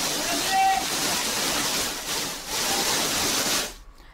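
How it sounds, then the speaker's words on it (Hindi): Rushing floodwater sweeps a car away with a loud, continuous roar that swells and dips before cutting off abruptly near the end. A voice seems to be talking over it. "ये पानी का बहाव है जो अपने साथ कार को भी बहा कर ले गया है"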